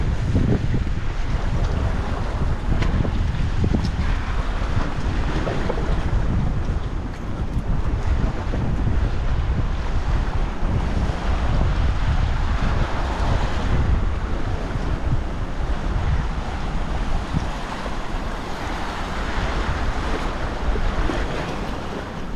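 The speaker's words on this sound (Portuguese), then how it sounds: "Bom, aqui já tá ventando mais." Strong wind roars steadily across the microphone over crashing surf at Praia da Ferradura beach in Búzios, Brazil, a loud, constant wash of noise with no voices.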